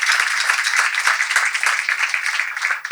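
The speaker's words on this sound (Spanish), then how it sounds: "En primer lugar, quiero agradecerle a Roma Godoy, la productora del evento, a quien pido un fuerte aplauso." An indoor audience at the opening speeches of a literary event gives a warm round of applause for the event producer. The clapping is close, dense and steady for about three seconds, with no voices over it.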